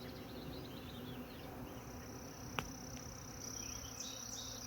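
A honeybee swarm buzzes outdoors as a faint, steady hum under chirping birds, with one sharp click partway through and no talking.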